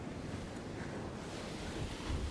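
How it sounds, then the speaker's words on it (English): Rough ocean water froths and surges steadily against rocks during fishing for blue groper with an Alvey reel, a close, continuous wash with wind buffeting the microphone and no talk. "groper in rough water. That water is frothing hard."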